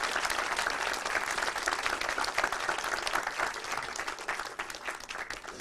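Audience applause for student presenters at an undergraduate research conference, dense continuous clapping from a roomful of people, even and sustained from start to finish.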